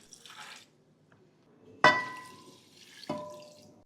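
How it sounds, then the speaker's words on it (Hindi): One litre of water is poured into a pot of white chickpeas with turmeric and red chili powder. Brief splashy pours and drips come in short bursts, close and moderately loud, with no talk. "अब इसमें 1 लीटर पानी डाल दें।"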